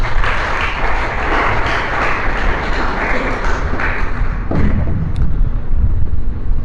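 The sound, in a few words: applause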